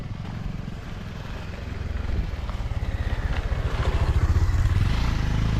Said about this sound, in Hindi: बाइक में लोग जा रहे हैं